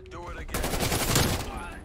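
Rapid automatic gunfire from the video game Call of Duty Cold War breaks out after a short pause and runs as a dense, loud burst of shots. A voice speaks briefly before it.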